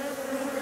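Honeybees at a hive drone in a steady, close buzz for a brief moment, with no voices over it.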